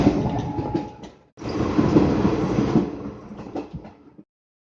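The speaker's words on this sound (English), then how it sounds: "That night we took an 8-hour journey on a sleeper train." A sleeper train running on rails in India at night, a loud close rumbling clatter of wheels and carriage with a brief dropout, then the rolling noise resumes and fades away.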